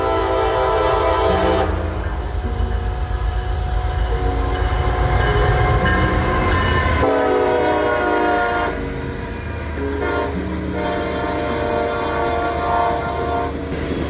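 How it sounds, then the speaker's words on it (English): A westbound CSX B train rolls past on the main line, loud and close, with sustained horn blasts sounding over the steady roar and rumble of the passing cars. "I would catch this westbound B train on the main line"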